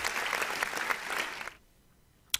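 Crowd applause in a short burst of dense clapping that cuts off after about a second and a half, leaving near silence broken by one sharp knock at the end.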